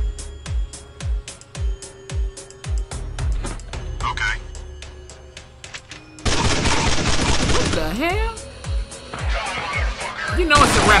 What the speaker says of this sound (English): We have zombies with guns, man. How the hell can you fight that?